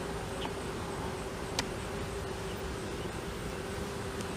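Honey bees swarm around a hive holding a caged queen, making a dense, continuous buzzing drone close by, steady and unbroken throughout.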